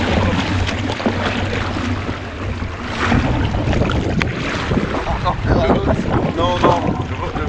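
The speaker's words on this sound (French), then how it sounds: "le vent se lève là" Wind gusting across open water while a kayak or canoe is paddled off Madagascar, a steady broadband rush with boat and water noise throughout, loud and close to the microphone, with a few voices now and then.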